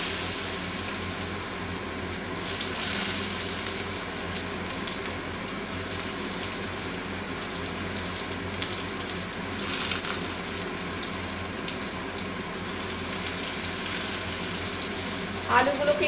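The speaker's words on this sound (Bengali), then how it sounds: "শুকনো লঙ্কা ফ্রাই করা হয়ে গেছে, এবার আমি আলুগুলোকে দিয়ে দিচ্ছি" Potatoes fry in a pan after dried chillies, a moderate continuous sizzle with soft stirring, close by, ending in a short clatter of utensil noise.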